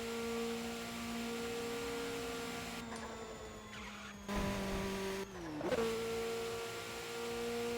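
A car sliding and racing in a driving video game, with a steady engine drone and tyre hiss interrupted by two brief skidding surges before the drone settles again.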